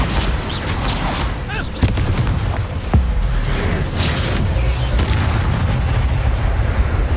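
Spell blasts from Hogwarts Legacy combat, a Bombarda explosion among other spell effects, come as dense booming bursts with sharp impacts near 1.8 and 3 seconds over a steady roar of battle noise.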